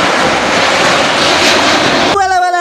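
A toy Garuda airplane runs with a loud, continuous whirring hiss close by, cut off near the end by a short tonal sound.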